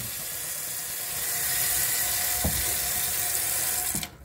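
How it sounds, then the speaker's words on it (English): Water leaking from a household pipe at home, a steady hissing spray and trickle that swells slightly midway, with a couple of brief knocks near the end. "Cause my water is leaking too much over there."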